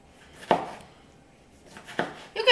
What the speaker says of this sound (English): you need to cut the tomato into little pieces too